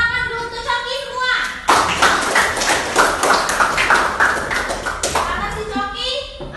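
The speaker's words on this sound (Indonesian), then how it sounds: "Oke, tepuk tangan dulu untuk Coki semua." Students in a classroom break into a burst of hand clapping lasting several seconds, loud and close, with people speaking before and after it.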